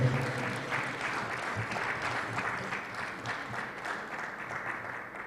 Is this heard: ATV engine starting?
no